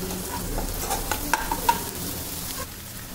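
Crushed garlic hits hot oil with green chillies while chutney is being made, giving a steady close sizzle and frying hiss with a few soft stirring clinks, no voices.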